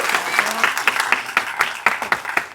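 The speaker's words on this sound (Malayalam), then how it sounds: "അവർ കണ്ണന് വേണ്ടി ക്ലാപ്പ് ചെയ്യുന്നത്" A theatre audience claps for Kannan at a film screening response event, a close, dense burst of rhythmic clapping, a few loud distinct claps over a steady patter, with some voices mixed in.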